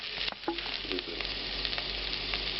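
Onions dropping into a hot pan where garlic is already browning, giving a steady loud crackling sizzle with sharp pops near the start, close and alone without talk.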